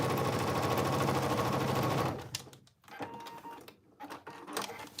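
A sewing machine top-stitches a cargo pants pocket, running fast and continuous for about two seconds before stopping. Quieter handling clicks and rustles follow.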